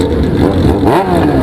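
Motorcycle engine revving hard and close, pitch climbing and dipping in quick bursts.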